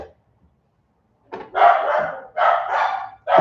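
Dogs barking in two or three loud, close bursts after a short pause, with some yelping, near neighbors' activity outside.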